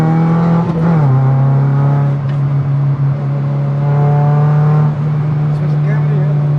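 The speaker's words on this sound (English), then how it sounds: "it's just me actually wanting you to listen to the car a little bit." An Opel Corsa GSI engine drones steadily while driving, a loud continuous hum inside the cabin with a brief dip in pitch near the start and gentle rises in revs, heard alone without talk.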